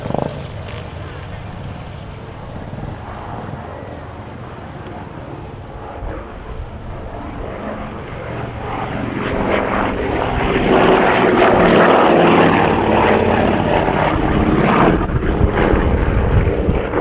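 Vintage Avro Anson and Lockheed 12a propeller aircraft perform a flying display at Shuttleworth Old Warden, engine drone rising from distant to a loud, broad roar as they pass, with a commentator talking throughout.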